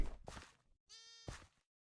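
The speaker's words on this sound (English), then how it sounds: "we already have some sheep spawning over here" Sheep in a video game bleat in a few short, clean, close calls with brief silent gaps between them.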